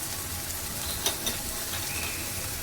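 Onion and tomato with turmeric, coriander-cumin powder and garam masala frying in a pan, a steady even sizzle with a couple of brief stirring scrapes partway through.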